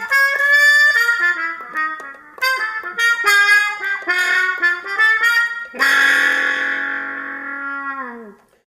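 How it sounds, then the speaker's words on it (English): A muted trumpet plays a lively, choppy phrase of short tongued notes with buzzy, wah-like effects, then ends on one long bright held note that fades out. "the player is using special tongue effects and something called a mute, which is basically a plug you put in the bell of the trumpet"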